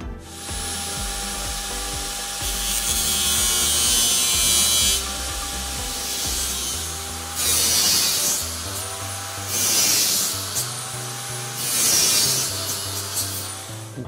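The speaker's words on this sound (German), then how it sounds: "müsst ihr die überständigen Schrauben mit dem Winkelschleifer einkürzen" An angle grinder cuts down protruding screws on resin hoof hooks for a Duplo cast shoe. It whines in four separate bursts of high, gritty grinding, with quieter pauses between them.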